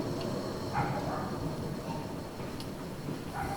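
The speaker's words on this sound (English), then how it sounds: "The train goes into the station." A train entering Palma's Soller railway station rumbles steadily at moderate distance, with a low continuous roar, faint squeals and clanks of rail cars over the noise.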